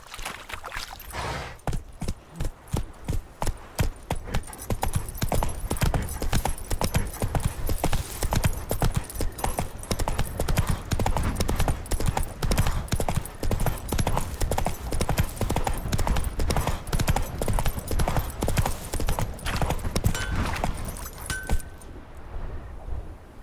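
Horse hooves galloping in The Witcher 3: Wild Hunt, a fast, steady clip-clop rhythm that stays loud and close for about twenty seconds before stopping abruptly, with faint tack jingling and no talking.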